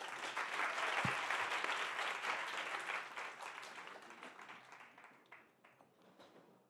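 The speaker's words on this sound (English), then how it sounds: "Big applause, everyone." An audience claps and applauds loudly, the sustained applause gradually thinning and fading out over several seconds.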